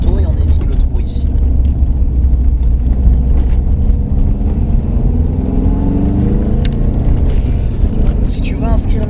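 A car on a driving course brakes hard while its engine and tyres hold a loud, steady rumble throughout. A faint whine shifts in pitch as it slows, and a voice can be heard over the noise.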